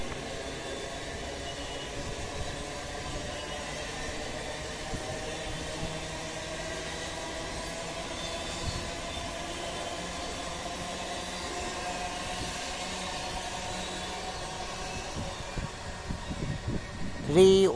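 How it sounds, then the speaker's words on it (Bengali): A Sealdah–Ranaghat local train pulls out of Kankinara station on the Kolkata suburban line, a steady broadband rumble and hum of the moving carriages that stays even throughout, swelling with some louder knocks right at the end. "31621 up Sealdah Ranaghat local Kakinara rail station ছেড়ে পরবর্তী রেল স্টেশন নৈহাটির দিকে"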